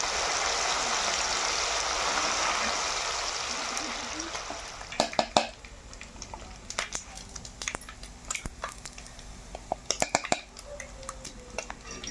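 Fish pieces fry to a golden red in hot oil, a strong sizzling hiss for several seconds that fades, followed by scattered clicks and utensil knocks.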